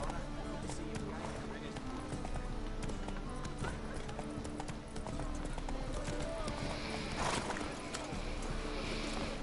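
Hoofbeats of Roach, Geralt's horse, gallop steadily in The Witcher 3, a continuous rhythmic clip-clop under game ambience, with a voice speaking partway through.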